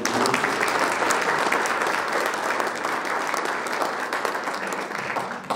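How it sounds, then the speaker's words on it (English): A luncheon audience at a monthly chamber of commerce event applauds its sponsors, dense sustained clapping from a roomful of people that holds steady for several seconds before tapering slightly. "Give them another round of applause."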